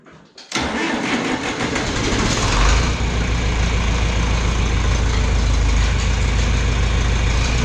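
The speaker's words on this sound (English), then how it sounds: "My hay tractor that we're using here today is a PowerShift 3020, not the 4020 you've seen in previous videos." A John Deere 3020 PowerShift farm tractor's engine cranks and fires after a brief quiet moment. It revs up loudly close by, then settles into a steady, rumbling diesel idle.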